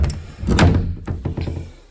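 An entrance door handle turns and its lock engages, giving a cluster of close mechanical clunks and clicks followed by a few lighter taps.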